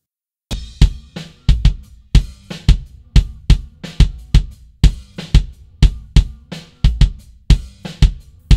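A recorded kick drum heard raw without any mic modeling, steady close punchy thumps repeating in a regular pattern with short decays, loud and alone.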